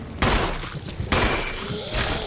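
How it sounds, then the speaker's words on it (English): Gunfire rings out in Resident Evil HD Remaster as a player shoots a zombie: three loud, sharp shots spaced about a second apart, each with a ringing tail and a steady background hum underneath. "we got a zombie to shoot"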